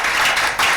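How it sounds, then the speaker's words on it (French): Live audience applauding and cheering at a French-language music show, a dense, loud wash of clapping that swells, dips briefly, then surges again. "Le public, applaudissez pour vous-même."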